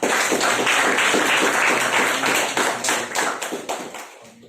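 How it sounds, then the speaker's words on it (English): A seated audience at a speakers forum breaks into a big round of applause for someone speaker, dense steady clapping that fills the room and then tapers off near the end. "And a big round of applause for her."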